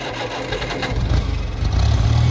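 Old 1963 Cub Lowboy tractor engine running with low, steady mechanical rumble that grows slightly louder toward the end, close by with no talk over it.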